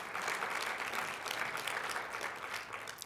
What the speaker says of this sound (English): Give yourselves an applause for that one.